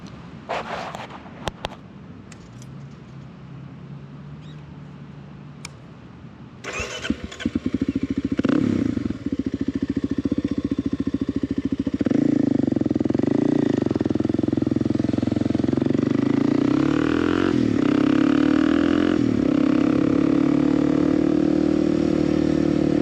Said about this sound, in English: let's fire up the bike and get back home